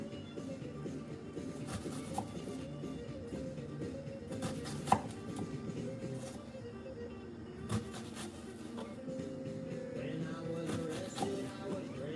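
Knife chopping onions on a board for homemade jambalaya, with scattered sharp chops, some clustered in quick runs and others spaced apart, over low household background noise.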